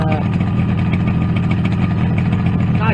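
A Yamaha RD250B two-stroke motorcycle engine idles steadily and loudly up close, with carburettors ultrasonically cleaned and properly set up, its low throbbing running even throughout.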